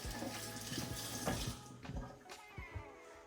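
Tap water runs steadily over a green pepper being rinsed in a kitchen sink, a close splashing wash that thins out midway into a few softer splashes and drips.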